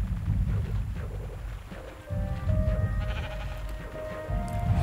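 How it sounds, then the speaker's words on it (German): Minecraft sheep bleating near a river in a forest biome, a couple of wavering bleats standing out over a loud, rumbling game background. "Und da schwimmen die Schafe."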